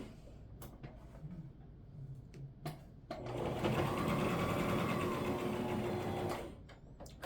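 Household sewing machine with a quarter-inch foot stitching a quilted scrap blanket: a few soft clicks and fabric handling, then a steady whirring run of stitching for about three seconds that stops abruptly.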